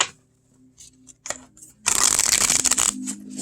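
A few light card clicks and taps give way to a fast, crisp riffle shuffle of a deck, close and clear.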